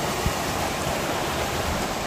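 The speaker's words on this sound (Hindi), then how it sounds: "यहाँ पर एक झरना भी है" A waterfall near an outdoor meat roasting spot gives off a steady, dense rushing roar, constant and unbroken throughout.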